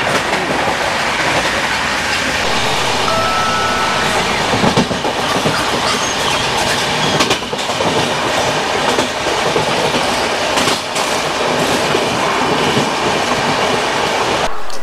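The Poorva Express, Howrah to Jasidih, running at speed near Barddhaman Junction: a loud, steady roar of wheels on rails with continuous rattling clatter and occasional squeal, heard from on board with no talk.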